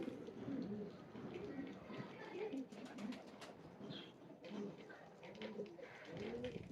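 Several domestic pigeons, including Ferozpuri, Rampuri and Teddy breeds in a loft, coo in low repeated phrases close by, with someone talking in Urdu over them throughout.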